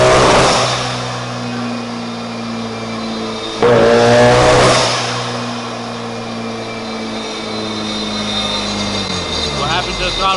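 A 500 hp-capable FC RX-7 rotary engine revs hard on a dyno with its throttle stuck open, a loud sustained drone holding steady pitch before falling away near the end, with people talking over it.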